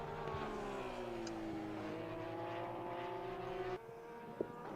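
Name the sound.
Porsche race car engine in video game Assetto Corsa Competizione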